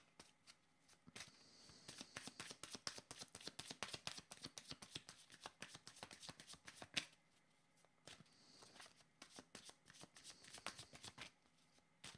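A deck of playing cards is shuffled repeatedly, the rapid riffling flutter running in long bursts with a brief pause near the middle, close and fairly quiet with no voices.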